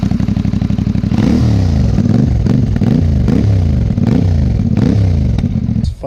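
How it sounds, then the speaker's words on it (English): A CF Moto 450 MT motorcycle engine revs hard in repeated rising bursts, loud and close, with a rough throaty exhaust note and no talking. "This exhaust sounds amazing."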